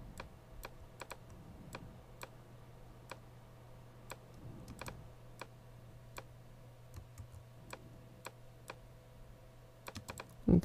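Single computer keyboard keys are struck at irregular intervals during 3D modeling work in Modo 401. Each tap is a sharp, close click, with quiet pauses between them and a small burst of clicks at the end.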